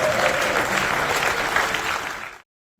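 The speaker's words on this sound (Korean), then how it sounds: "투명 마이크로 LED를 깜짝 소개하자 외신들의 박수가 쏟아져 나옵니다." Dense applause from the foreign press fills the room at the reveal of a transparent micro LED screen, steady and loud for a couple of seconds before cutting off abruptly.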